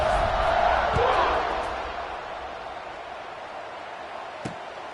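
Stadium crowd noise in College Football 26, Akron versus Tennessee in dynasty mode, a broad cheering roar that swells early then fades to a low murmur, with a commentator speaking over it.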